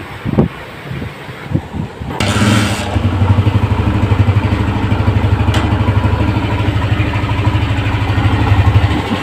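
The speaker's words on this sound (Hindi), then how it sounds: "अब इसको बाइक को स्टार्ट करेंगे, इसका इंजन का साउंड भी सुनेंगे।" A Honda CG125 motorcycle engine catches after a few clanks and settles into a steady, loud, close idle with a regular chugging rhythm.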